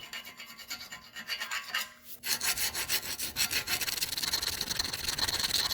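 Steady scraping and rasping of metal against rust inside a ball joint cavity on a 2014 Kia Rondo, a continuous gritty rubbing that grows louder and denser after a short pause, close up with no voices.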